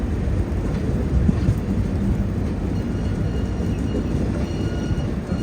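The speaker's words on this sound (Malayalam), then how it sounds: "ട്രെയിൻ അങ്ങനെ നാഗർകോവിൽ ജംഗ്ഷൻ സ്റ്റേഷനിലേക്ക് ഇത് എത്തിക്കൊണ്ടിരിക്കുകയാണ്" Vivek Express train rolling into Nagercoil Junction station makes a steady, heavy rumble and roar, broadband and constant throughout, without clear individual clacks or voices.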